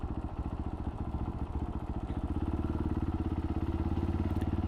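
Boat engine running steadily on a trip off St Ives, a loud, close, continuous throbbing drone with a fast regular pulse that climbs slightly in intensity partway through, no voices.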